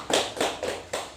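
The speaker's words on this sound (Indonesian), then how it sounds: "Tepuk tangan buat kelompok 1." A few sharp, evenly spaced hand claps ring out in a classroom, four distinct slaps close by and fairly quiet.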